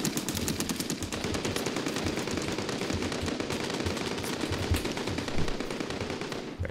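A mounted machine gun on a technical fires in the video game Call to Arms, a loud, sustained, rapid stream of shots that rattles on without pause for several seconds.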